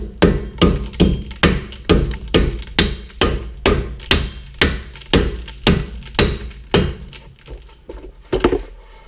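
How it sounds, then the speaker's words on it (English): A mallet pounds on the axle of a Chevy Malibu during a wheel bearing replacement, roughly twenty loud, heavy, metallic thuds in a steady rhythm, each ringing briefly, with no talking. "I'm gonna get a mallet, see what happens."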